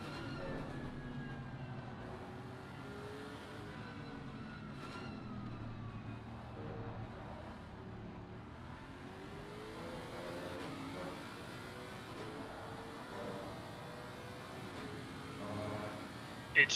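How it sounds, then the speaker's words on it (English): A steady, droning Lexus race car engine in a racing video game at Barcelona, with rising and falling pitch sweeps as gears shift, continuous and fairly quiet, ending with a brief louder burst. "sound good, Jesse, but I just want to listen to this Lexus for a second as they come through this last couple corners."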